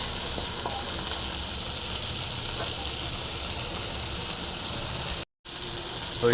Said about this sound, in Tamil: இது நல்லா ஃப்ரை ஆகட்டும் அதுக்கப்புறம் மற்ற ஐட்டம் ஒன்றா சேர்க்கலாம்